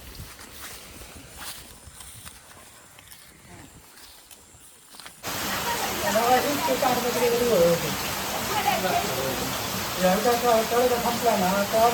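Sudden rain on rice fields in the Konkan countryside: after a few quiet seconds, a dense, steady hiss of rainfall bursts in and keeps pouring, with voices faintly audible beneath it.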